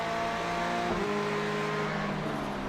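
A GTE race car engine in iRacing at Road Atlanta drones steadily at high revs during an overtake, close and continuous with a slight pitch shift as it shifts.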